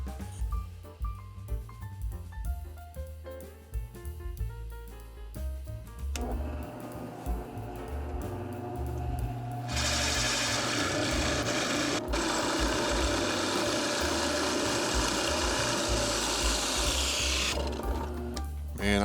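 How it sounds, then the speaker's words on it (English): A 2 3/8 inch Forstner bit bores into particle board, a drill motor whining and then grinding loudly and continuously for several seconds before stopping, after a stretch of quieter mechanical clicking and handling. "I'm going to drill a hole exactly the size of this"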